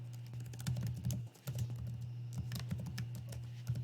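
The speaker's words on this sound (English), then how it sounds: "I'm going to hit enter one time, and then I'm going to put my cursor back over to the left, and then I'm going to use the tab button" Computer keyboard keys are tapped in a steady run of soft, close clicks, with a brief pause partway through, over a low constant hum.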